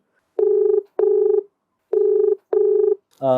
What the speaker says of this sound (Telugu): సో తనతో మాట్లాడే ప్రయత్నం చేద్దాం కాల్ చేస్తాను